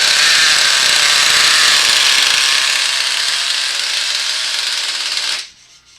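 Nitro engine of a Tamiya Bruiser RC truck starting from cold, a loud harsh buzzing rasp that runs for about five seconds before cutting out abruptly.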